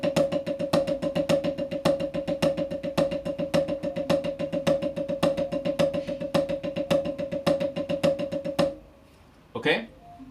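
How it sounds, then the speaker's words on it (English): A snare drum plays a fast, steady stream of paradiddle strokes with accents on the downbeats, close and loud, with no talk over it. After about nine seconds it stops and a voice follows briefly. "normal paradiddle is right, left, right, right, left, right, left, left. Accents on the downbeats, and that sounds like this"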